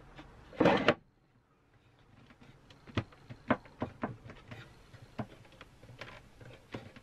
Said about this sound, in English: now to slot the drawer in and give everything a test.